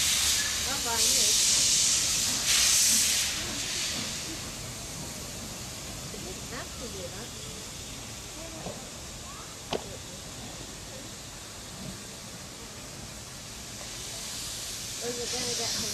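Steady background noise with a few loud bursts of steam hiss from an Isle of Man Steam Railway locomotive venting nearby, while people talk quietly.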